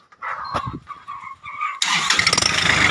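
Soft clicks and a whirring crank give way to a Kubota L4018 tractor engine catching and roaring into a loud, steady chugging run.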